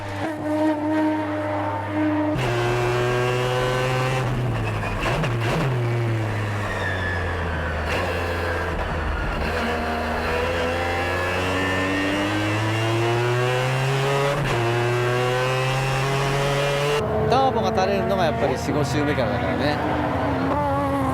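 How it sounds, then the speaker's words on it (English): Mazda RX-7 with a 20B three-rotor engine pulls hard on a time attack lap, a loud continuous rotary howl that rises and falls through gear changes, with voices talking over it. "The 20B 3-rotor engine roars as Tsuchiya goes out for the time attack."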